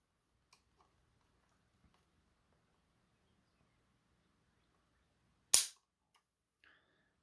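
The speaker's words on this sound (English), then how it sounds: "so I can dry fire it and not damage my gun. Let's pull the trigger" A Heritage Rough Rider revolver is dry fired, giving one sharp, loud metallic snap of the hammer after quiet faint handling clicks, followed by a small click.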